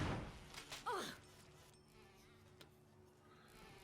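Wasps buzz faintly in the Resident Evil 1 Remake video game, with a short, louder, wavering drone early on before it fades back to a low background hum.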